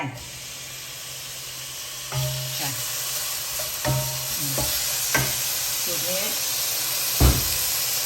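Pork sizzles steadily in a hot wok while a metal spatula scrapes and clanks against the pan every second or so.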